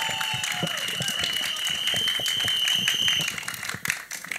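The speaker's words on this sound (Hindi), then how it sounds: "हमारे डायरेक्टर साहब अनुकल्प सर के लिए एक बार जोरदार तालियां" Audience at a film trailer launch event applauds the director, a dense, steady wash of clapping with a few cheers throughout, with voices underneath and a brief dip near the end.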